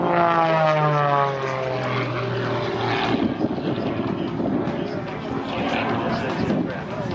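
An Extra 300 aerobatic propeller airplane performs at an air show, its engine droning loudly with a sweeping, changing pitch, while an announcer talks over it.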